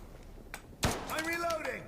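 In the Delta Force game, a vehicle hatch opens with a sharp metallic thunk and then a short ringing, creaking resonance that fades. Quiet in-game noise sits underneath.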